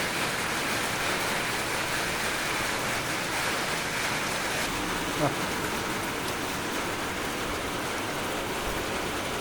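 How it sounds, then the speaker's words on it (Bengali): Steady rain pours down in a dense, even hiss that holds unbroken throughout, with no voices heard. "বৃষ্টি পড়ছে আকাশ থেকে।"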